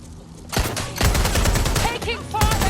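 Gunfire erupts in Watch Dogs Legion, a loud fusillade of rapid automatic shots that starts after a brief quiet moment and continues in several dense, overlapping volleys.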